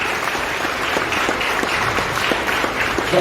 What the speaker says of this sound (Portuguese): vou devolver as palmas para o Felipe